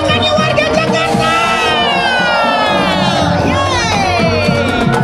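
Crowd shouting and cheering at a carnival parade by Monas in Jakarta, loud and continuous, with excited high voices, whistle-like wails and a marching band's drummers nearby.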